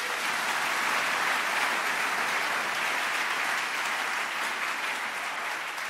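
A church congregation applauds during a worship service, a thick, sustained wall of clapping from many hands that holds at full strength for the whole stretch, with no speech over it.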